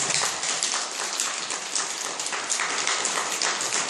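Congregation applauding after a Buddhist Sunday dharma talk, a thick continuous patter of many clapping hands, fairly close and steady, with no voices over it.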